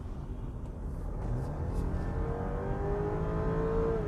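A BMW X3 xDrive30i M Sport 2022 accelerates hard in sport mode, its engine note rising steadily in pitch and growing louder from the cabin over about four seconds, with no talking.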